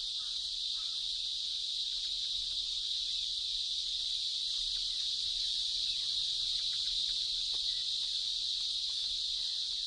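Loud chorus of cicadas in trees, a continuous high-pitched droning buzz that stays steady and unbroken throughout, dense and even with no pauses.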